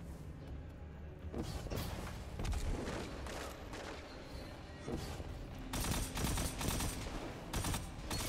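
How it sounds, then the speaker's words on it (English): Bursts of rapid gunfire in Destiny 2 crackle in waves, loud and close, with heavier volleys near the end. "I just stepped into the line of gunfire."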